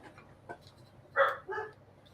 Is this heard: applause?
no